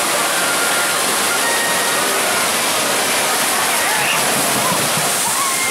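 Roar of a water ride boat plunging down the big hill at Universal's Islands of Adventure in Orlando, a loud continuous rushing splash and spray that fills the whole stretch.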